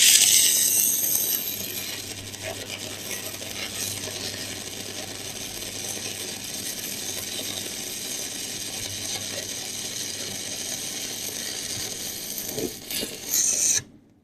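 Steel shaft being cut with a Spark 400 amp DC inverter welding machine, a steady crackling, hissing buzz that runs continuously for most of the stretch, with a few sharper pops near the end before it cuts off.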